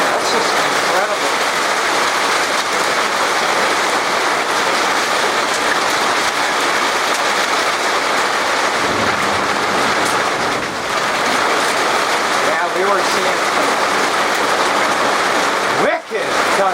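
Heavy storm rain and hail from a supercell blow in, a loud, dense, continuous roar and patter of pellets lashing close by, with a person speaking briefly over it.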